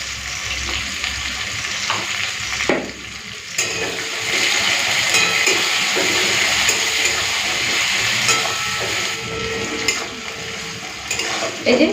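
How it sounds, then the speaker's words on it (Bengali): Chopped onions fry in a hot pan with a steady, loud sizzle, while a utensil stirs through them and scrapes now and then against the metal; no one speaks. "পেঁয়াজটা লাল করে ভেজে নিয়েছি"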